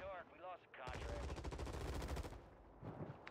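Rapid automatic gunfire bursts loudly in a Warzone match for about a second and a half, a dense rattling volley that then trails off, with a player's voice briefly heard before it starts.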